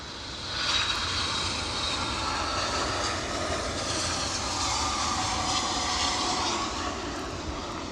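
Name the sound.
airplane engine at Edinburgh airport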